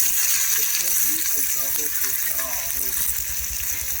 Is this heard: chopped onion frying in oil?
yes